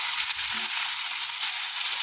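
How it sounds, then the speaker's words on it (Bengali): An egg fries in a pan, giving a steady, close sizzle with soft crackling throughout. "ডিমটা ভাজা হয়ে গেছে।"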